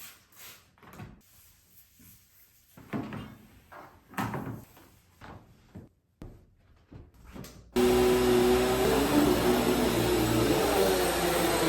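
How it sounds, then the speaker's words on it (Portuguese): An apartment air conditioner starts up partway through, its steady loud hum and rush taking over after several seconds of scattered knocks and bumps from cleaning in the room. "Barulho do ar-condicionado"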